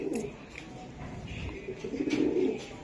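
Racing pigeon with pearl (anar) eyes and grizzle colouring cooing up close, low murmuring coos swelling near the end, with faint background noise.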